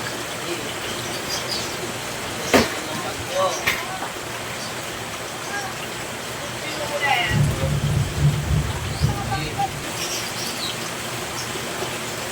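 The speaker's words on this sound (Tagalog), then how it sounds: "Puro ulan na lang!" Heavy rain pours down during Typhoon Enteng in a steady, loud wash, with a couple of sharp cracks early on and a low thunder rumble midway, while people speak faintly.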